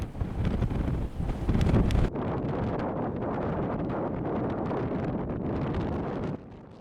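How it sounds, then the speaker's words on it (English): Strong wind from a sandstorm in Death Valley buffets the microphone, with heavy rumbling gusts at first that then settle into a steady roar. "Looks like a real Death Valley sandstorm down there."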